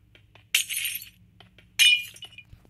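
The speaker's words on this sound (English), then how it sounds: "You can't break glass anymore?" Glass blocks being hit in a Minecraft-style video game, two sharp glassy clinking bursts about a second apart, crisp and close over faint game background, with no talk.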